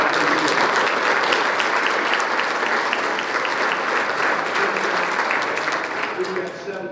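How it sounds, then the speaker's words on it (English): An audience at a high school football awards night applauds the JV players, sustained dense clapping from a large crowd that stays loud and steady before easing slightly at the end, with faint voices underneath. "I would like to first of all give them a big round of applause for that."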